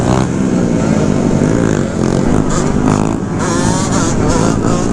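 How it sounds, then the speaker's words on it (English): A two-stroke stunt scooter engine revs loudly and close by, its buzzing pitch rising and falling over five seconds while faint voices sound in the background. "gotta love two-stroke sound."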